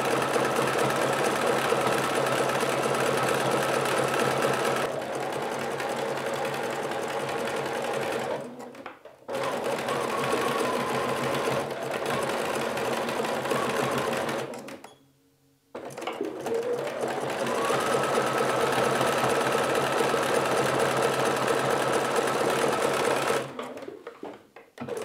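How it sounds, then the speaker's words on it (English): A sewing machine stitches a rope bowl, the rope held at an angle against the machine. It runs loud and steady in long continuous bursts with two brief stops, and there is no talking. "I will now keep and hold my kind of plate against the machine so that it has a certain angle and then sew with this angle"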